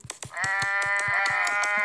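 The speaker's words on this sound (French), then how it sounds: "On va remplir la map de moutons" Sheep in a video game let out a long, wavering bleat over a quick, steady run of clicking sounds, close and clear, with no talking.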